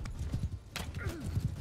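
Horse hooves clip-clop in Mount & Blade II: Bannerlord, a rhythmic series of close, muffled thuds with a short neigh in the middle, and a voice talks over them.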